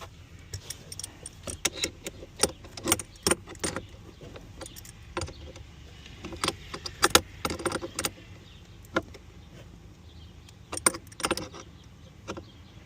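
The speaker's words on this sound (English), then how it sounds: "Attach the positive and tighten it down." Metallic clicks and ratcheting of a wrench tightening the positive battery terminal on a Porsche Cayenne during a battery replacement, a close series of sharp, irregular taps and jangles over a low steady hum.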